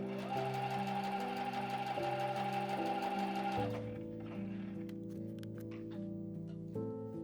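A sewing machine stitches green fabric onto the edge of quilt batting, a loud steady mechanical whir with rapid rhythmic needle strokes that slows and softens halfway through into quieter ticking and clicks.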